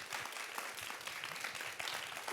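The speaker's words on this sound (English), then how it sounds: "Everybody, please clap your hands for Renee Robinson." Audience applause after a dance program tribute, a steady dense wash of clapping hands sustained throughout with no break, fairly even in loudness and heard on its own.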